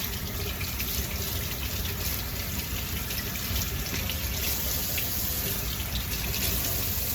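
Tap water runs steadily into a sink as steak is rinsed under it, a continuous close broadband splash with no pauses.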